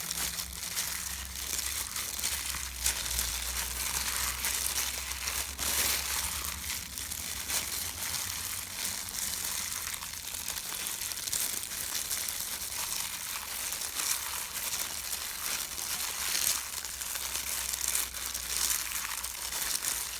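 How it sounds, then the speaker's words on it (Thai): Canned fish cake mixture with kaffir lime leaves being stirred in a bowl, giving soft, continuous crinkly, squelchy mixing sounds that stay close and fairly quiet throughout, with no voices. "อันนี้ก็แค่คนให้เขาเข้ากันเนาะไม่ต้องขยำมาก"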